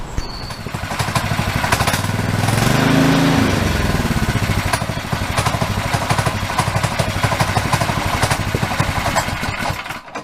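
A small petrol engine on a shed-built cyclekart runs steadily and loud, close by, with a throbbing idle that swells briefly in revs before settling back to an even chug.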